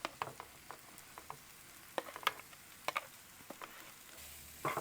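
Onions dropped into hot oil in a pan for a baby potato curry, giving a faint, patchy crackle and sizzle with scattered sharp pops and stirring clicks, fairly quiet and without talk.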